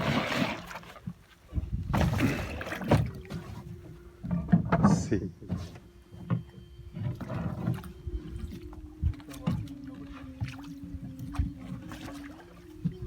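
A small boat moves across water with splashes and knocks, a low motor hum running through the second half, and people talking intermittently.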